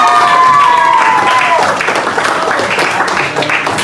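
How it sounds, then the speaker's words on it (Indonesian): Classmates in a school guidance session clap for one another, a burst of applause with some cheering that starts under a held voice and thins out toward the end. "Kita kasih tepuk tangan buat teman-teman."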